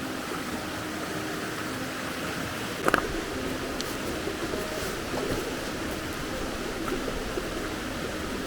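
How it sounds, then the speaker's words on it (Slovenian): Water flows steadily in a river gorge below, a constant broadband rush heard from some distance, unbroken apart from one brief knock. "zdaj smo se preselili pa nad Sotesko in se spet sliši vodo"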